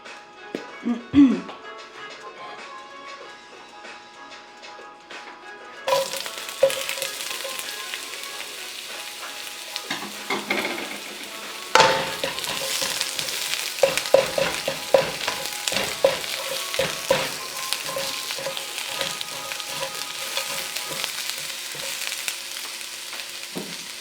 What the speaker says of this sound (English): let's put some oil on it to saute the onions.